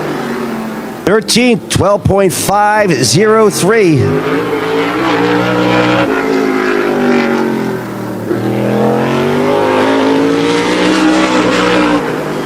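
Modified race car, number 73, on a qualifying lap at a speedway: a loud engine roars through rising and falling revs with sweeping pitch, then settles into a steady drone as a commentator talks over it.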